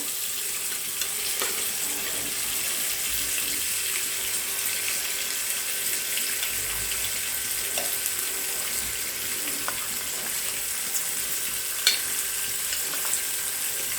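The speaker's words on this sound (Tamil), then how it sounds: "ஷாலோ ஃப்ரை பண்ணிக்கலாம். இது ஆனால் இது 2 சைடும் நல்லா ப்ரௌன் ஆகணும்." Homemade paneer shallow frying in a pan, a steady soft sizzle with occasional small pops, close and continuous for the whole stretch, no voices.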